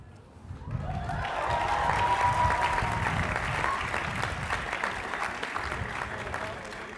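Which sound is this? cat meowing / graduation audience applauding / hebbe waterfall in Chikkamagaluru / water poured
graduation audience applauding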